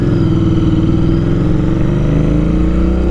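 Royal Enfield Interceptor 650 motorcycle engine pulling in a short first gear, a loud, close, steady parallel-twin drone rising slightly in pitch with no talk over it.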